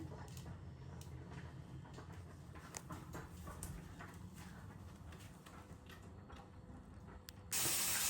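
Eggplant fries in a pan with a quiet, steady hiss and light spattering, continuing without talk before a sudden louder burst of noise at the very end.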